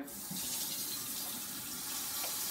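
Tap water pours steadily into a pot, a continuous broadband rush with a slight rising fill tone, close and loud, with no talking.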